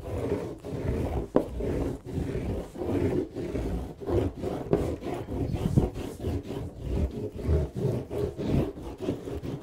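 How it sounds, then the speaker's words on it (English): Surf wax rubbed onto a surfboard in straight up-and-down strokes, giving a steady, close scraping and rubbing rhythm of repeated short passes with no voices. "I just like to do like straight up and down lines, alternating the wax like this"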